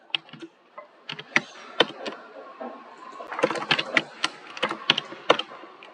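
Close, crisp clicking of fingers typing on a computer keyboard, irregular bursts of keystrokes that start sparse and grow quicker and denser, with no one talking.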